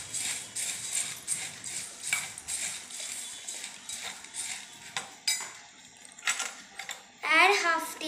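Bhel puri ingredients, including oats, onions and coriander leaves, being mixed in a bowl, with soft irregular scraping and clinking of a spoon against the dish that comes and goes, ending in a brief louder clatter.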